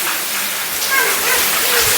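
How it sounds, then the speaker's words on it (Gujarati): Floodwater rushes through a small stream in a loud, dense, continuous roar of churning water that fills the entire moment with little change. "જો આ નેરીમાં પાણી આવે"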